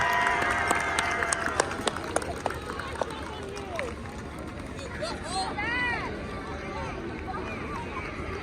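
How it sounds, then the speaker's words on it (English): A crowd at a high school football stadium applauds and cheers for the marching band, scattered claps and whistles over a broad murmur of distant voices, with open-air ambience throughout. "Here a big round of applause for the marching Huskies of Herbert Hoover High School."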